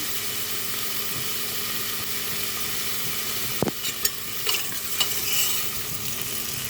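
Beef sautéing with turmeric powder and curry leaves: a steady close sizzle with a few sharp scraping stir knocks near the end, with no voices.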